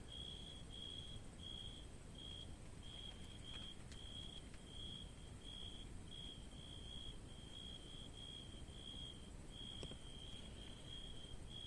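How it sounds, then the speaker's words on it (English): Frogs calling late at night in a remote rural spot, a faint, steady train of high pulsing chirps repeating evenly throughout with nothing else going on. "Yeah, they're the frogs."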